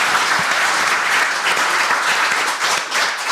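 A steady, loud wash of audience applause fills a hall at an academic symposium marking the 70th anniversary of Korean liberation, dense clapping from many hands holding even throughout with no voices over it.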